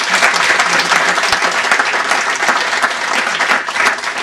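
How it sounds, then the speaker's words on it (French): Loud, dense audience applause at a conference, sustained evenly for a few seconds with no speech on top. "on ne peut que les applaudir encore une fois."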